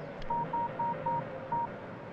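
A telephone keypad is dialed in a Tamil film scene: five short, evenly spaced DTMF beeps sound clearly against a quiet background, with no talking.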